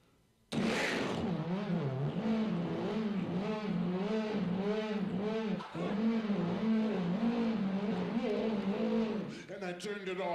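A voice imitates a 900-horsepower race car engine starting up and revving, with a sudden burst followed by a steady, wavering, throaty drone that rises and falls for several seconds before fading out.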